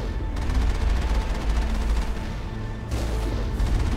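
Rapid automatic turret gunfire in the video game Mass Effect, a steady dense stream of shots with a brief lull near the three-second mark before firing resumes, loud and continuous with game ambience underneath.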